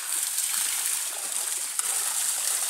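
Water pours from an opened tap in a continuous close hiss and splash, steady with one brief sharper splatter partway through.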